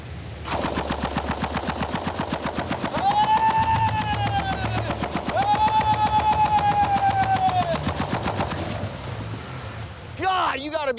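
An M60 machine gun fires a full belt in one long, loud, rapid stream of shots, steadied by its foregrip, with dense echoing bursts running most of the way and a voice shouting near the end.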